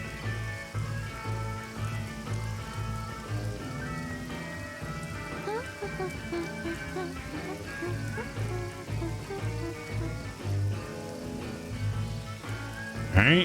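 Steady rain patters in a video game world, a soft continuous hiss over a low repeating musical backdrop, with no talking.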